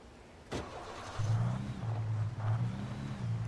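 In Alan Wake Remastered, a car's engine starts with a sharp click, then settles into a steady, low idling rumble that swells slightly a few times; there is no talking.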